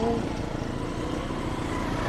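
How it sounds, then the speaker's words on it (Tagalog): A motorcycle engine drones steadily nearby on a farm road, a continuous mid-loud hum with no clear pass-by peak. "Maraming nakakasalubong tayong motor."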